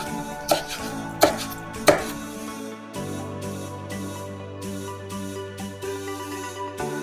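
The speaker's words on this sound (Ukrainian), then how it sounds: "Нарізаємо ароматну кінзу." A knife chops fresh cilantro on a board with a few sharp, distinct knocks early on, followed by softer, sparser cuts over a steady musical background.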